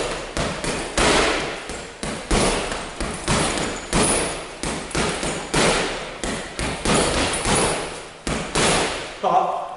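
Punches land on a heavy boxing bag in a steady run of loud, close thuds, about two per second, with a brief pause near the end.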